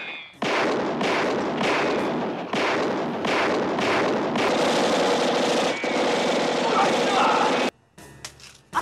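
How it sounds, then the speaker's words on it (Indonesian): Gunfire in the action comedy film Fight Back to School comes as a string of loud, heavy repeated blasts with a cinematic effect, under dubbed dialogue, ending in a sudden drop to near silence. "datanglah bos Cho membantu dengan menggunakan pistol miliknya."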